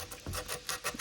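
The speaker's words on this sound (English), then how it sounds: "I'm just kind of moving this piece of sandpaper back and forth to sand down the glue that's in there" Sandpaper rubbed back and forth over wood to sand dried glue out of cracks, a few quick close scratchy strokes in an uneven rhythm.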